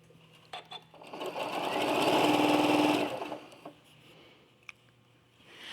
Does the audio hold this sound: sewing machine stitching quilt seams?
yes